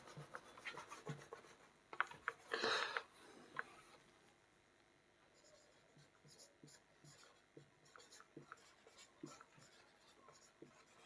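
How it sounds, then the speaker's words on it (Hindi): Pen writing on paper during a maths lesson on coordinate geometry, heard as close, light scratching strokes and taps with a brief louder rustle partway through, then steady small scribbles, with no speech. "चलो मैं दोबारा लिख ही देता हूं।"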